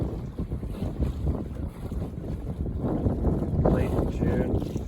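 Wind buffets a Buccaneer 18 sailboat on Yale Lake on a summer evening, a steady rushing roar with low gusty rumble across the microphone, rising slightly toward the end.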